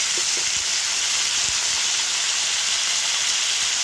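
Onion paste sizzling as it hits potatoes frying in hot oil for a green jackfruit curry: a loud, dense, steady hiss filling the whole stretch, with no voices.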